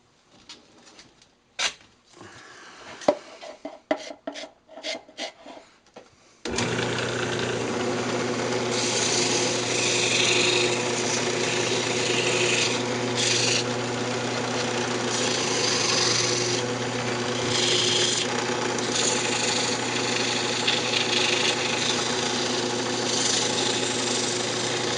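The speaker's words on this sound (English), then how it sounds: "I'm just going to go ahead and sand that up and then we'll part it off." Purpleheart wood pendant being sanded on a spinning wood lathe, a steady loud whirring rasp that starts abruptly after a few seconds of scattered knocks and continues alone without talk.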